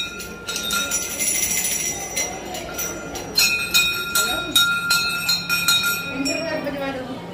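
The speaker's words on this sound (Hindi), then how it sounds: "हर जगह घंटी बजाना भी पसंद है" Metal bells ring repeatedly at a Hindu temple, a series of bright clangs with lingering ringing tones, mixed with crowd chatter and people talking nearby.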